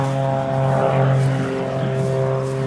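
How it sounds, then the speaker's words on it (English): A propeller aircraft engine drones loudly nearby at an airshow, its steady hum wavering in pitch as the variable-pitch prop cycles through high RPM on a turn. "The prop kind of cycling through high RPM."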